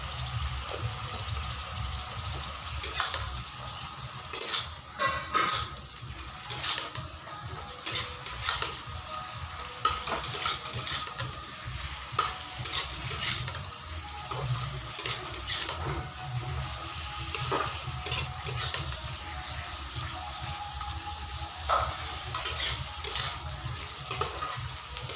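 Spinach greens fry in a pan with a steady sizzle, broken by a utensil repeatedly scraping and clinking against the pan in irregular bursts throughout. No speech is heard.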